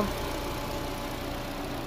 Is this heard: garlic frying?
no